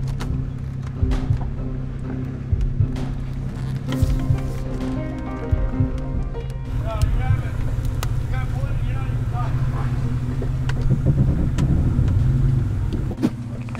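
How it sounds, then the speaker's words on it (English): Damaged, hydrolocked Porsche Cayenne with its front end dragging, scraping and thudding over boulders in a gulch; a steady low engine drone runs throughout, with irregular knocks and clanks and some background voices. "We're about to hit the first big boulder obstacle."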